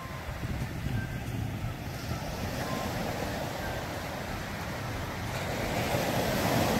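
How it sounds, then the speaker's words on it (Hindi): Ocean surf at night on Puri beach in Odisha, a continuous loud roar of breaking waves mixed with wind buffeting the microphone. "लहरों की इतनी तेज़ आवाज़ है कि वाकई डर लगता है।"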